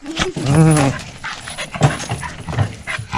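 A very active dog in a village yard gives short barks and whimpers close by, excited bursts separated by brief pauses, with some panting and rustling around it.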